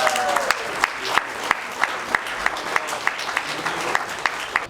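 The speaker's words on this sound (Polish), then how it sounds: "wielkie brawa za odwagę i bohaterstwo, za wystąpienie w tym filmie." Audience applause at an official film premiere, a dense crowd clapping with sharp louder claps standing out at regular intervals, steady and fairly close throughout.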